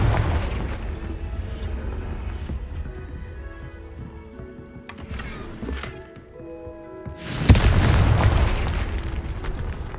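A Confringo spell explodes in the Hogwarts Legacy video game, a sudden loud blast with a rumbling tail near the end, after quieter magical effects and game ambience.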